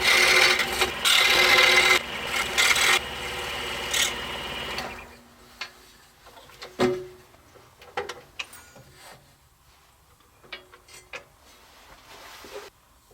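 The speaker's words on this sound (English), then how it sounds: "cut the recess that we marked here for our handle" A table saw cuts a recess for a handle in a wooden paper cup holder, giving about five seconds of loud, steady whine and rasp, then falling quiet to scattered light clicks and taps.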